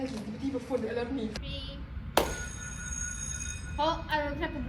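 A telephone rings with a bright, sustained electronic tone partway through, while people talk around it.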